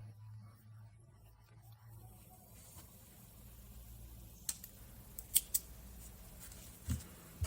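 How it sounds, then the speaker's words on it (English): Scissors snip through sewing thread in a quiet room, several short, sharp clicks clustered near the end over a low steady hum. "Then we can cut that thread just now."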